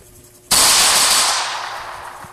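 A single sharp gunshot-like blast in the Roblox game Brookhaven bursts in abruptly, then fades out as a long, loud hissing decay.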